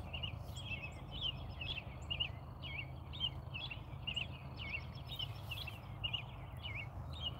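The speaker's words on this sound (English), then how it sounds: "Birds are singing." Birds sing at a campground, a series of repeated high chirping phrases heard steadily throughout over a constant low rumble of background noise, with no talking.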